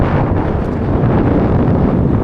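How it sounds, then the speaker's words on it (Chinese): Strong wind gusting hard against the microphone while camping beneath a large wind turbine, a loud continuous roaring rush with no voices. "感受这个大风车呼呼的声音"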